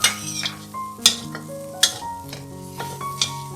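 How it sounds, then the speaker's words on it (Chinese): Four shrimp are stir-fried in a pan for a vegetarian Fujian-style dry-fried shrimp noodle dish, a steady sizzle broken by repeated sharp scrapes and clinks of a spatula against the pan, close up and without speech. "再放入4只虾，炒一炒"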